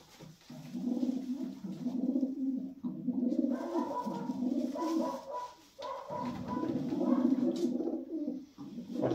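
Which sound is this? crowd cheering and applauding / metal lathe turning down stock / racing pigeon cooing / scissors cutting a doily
racing pigeon cooing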